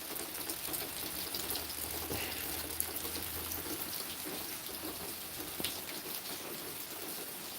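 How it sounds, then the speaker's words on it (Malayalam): Steady rainfall with a soft, even wash of drops, moderately distant, continuing without voices. "നമ്മുടെ വീട്ടിൽ നല്ല നല്ല രീതിയിൽ മഴ പെയ്യുന്നുണ്ട് ഇപ്പോൾ"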